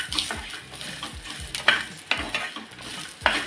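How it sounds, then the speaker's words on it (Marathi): Sesame seeds, chili, a cinnamon piece and cloves stir-fried in a pan for a crab curry masala, with a soft steady sizzle and a few sharp scrapes of a spoon against the pan, close by. "तीळ मिरची दालचिनीचा तुकडा आणि लवंग हे आता फक्त आपल्याला एखाद मिनिट याच्यामध्ये परतून घ्यायचं आहे"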